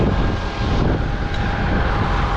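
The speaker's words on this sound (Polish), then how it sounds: "Kurde, wiatr taki straszny, że ja pierdzielę." Strong wind roars steadily across the microphone, a dense buffeting rush with no pauses.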